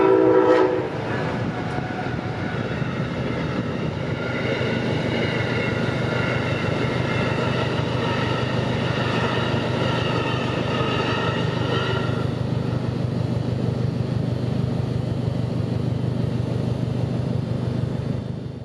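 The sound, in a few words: freight train PO41 passing Wabash Avenue crossing, horn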